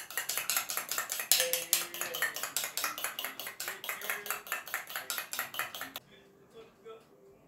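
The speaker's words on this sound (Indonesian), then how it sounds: "ini saya mau kocok ya" Donut dough ingredients whisked in a bowl, rapid rhythmic clinking strokes of a whisk against the bowl, close and bright, stopping abruptly near the end and followed by faint quiet handling sounds.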